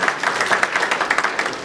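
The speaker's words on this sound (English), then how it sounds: "please give her a round of applause" Audience applause for the South Africa Trade Commissioner from the South Africa Consulate Chicago at an Intra-African Trade Fair activation event, a steady burst of many hands clapping in a room with no speech over it.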